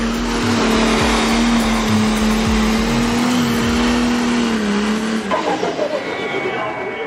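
Tractor and truck pulling engines at a raceway roar loudly and steadily, revving with tire squeal, heard beneath a continuous announcer's voice that dominates the mix.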